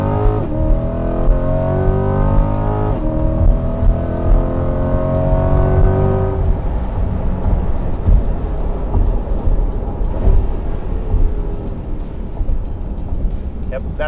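A C8 Corvette on an E85 tune accelerates hard through the gears, its engine note climbing in rising sweeps broken by shift breaks, loud and close from inside the car.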